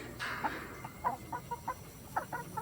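Laying hens beside a portable coop cluck in a quiet, steady series of short soft notes, fairly close, over low outdoor background.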